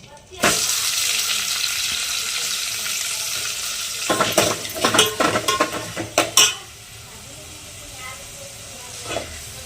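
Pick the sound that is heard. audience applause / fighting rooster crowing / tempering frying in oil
tempering frying in oil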